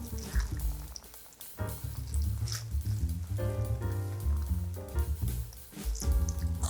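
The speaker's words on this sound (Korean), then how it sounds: "뜨거운 간장물 조금 식혔죠? 식초하고 붓고 그대로 부어주세요." Hot soy sauce brine mixed with vinegar is poured over green onions and red chili, with a continuous liquid gush, splashing and wet squishing, close and moderately loud.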